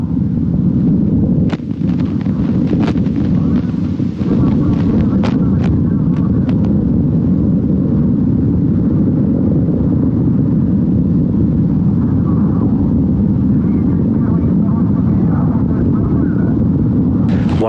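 A Soyuz 2.1a rocket carrying Progress 79 climbs from Baikonur Cosmodrome, its distant roar steady and continuous throughout, with broadband rumble and crackle; a faint voice is heard under it.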